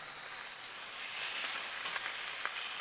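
Chicken pieces fry in a pan on a stovetop burner, a steady crackling sizzle with scattered sharper pops, close and continuous with no talk.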